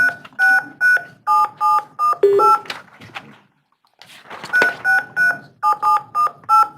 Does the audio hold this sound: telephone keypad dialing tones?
yes